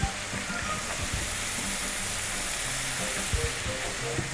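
A spoonful of butter fries in a pan for a meat dish, giving a steady, close sizzle with scattered small pops and no talking.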